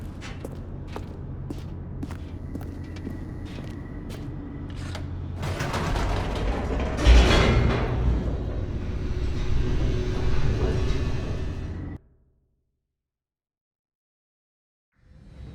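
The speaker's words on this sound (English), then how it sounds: "The elevator raced downward," An elevator descends in the video game The Stanley Parable: a mechanical rumble with creaks and clanks builds to a heavy surge, runs steadily for several seconds, then cuts off abruptly into silence.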